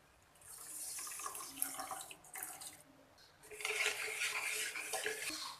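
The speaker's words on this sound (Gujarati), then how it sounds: "જરૂર પ્રમાણે પાણી નાખી દઈએ." Water poured into a pan of sugar to make syrup for mohanthal, a continuous close splashing pour that pauses briefly and then resumes more strongly.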